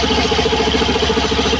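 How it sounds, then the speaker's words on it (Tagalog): A noisy CVT belt on a Suzuki Burgman Street EX 125 scooter churns with a close, loud, rhythmic chugging rumble over the running engine, like a small hand tractor, steady throughout the brief stretch. "Parang tunog hand tractor sa ganitong belt."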